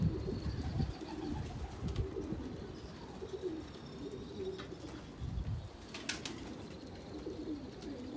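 Pigeon cooing at a loft coop as a bird lands, low repeated coos close by with a few faint chirps, continuous over light background noise.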